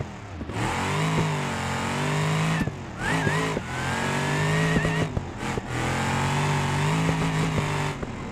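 A hard launch in BeamNG.Drive, the General Hawk project car's engine roaring loud and steady as rear wheels spin, with brief dips where revs drop and climb again between gear changes.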